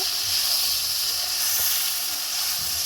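Ginger and garlic sizzle steadily in hot oil while being sautéed for Kashmiri aloo dum, a continuous close frying hiss with no talking.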